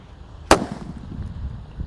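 A Blackbuster firecracker bursts once with a sharp, loud crack, trailing into a brief rumbling decay amid outdoor background noise.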